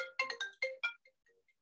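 A telephone ringtone plays a short melodic run of bright electronic notes in quick succession, then trails off into a few faint, sparse tones; no voices are heard.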